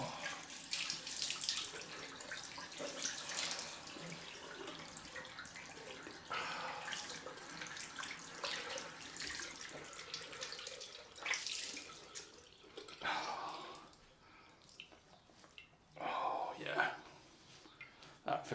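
Cold tap water runs into a bathroom sink for a rinse after a straight-razor shave, a soft, faint splashing stream broken by bursts of water and occasional talk.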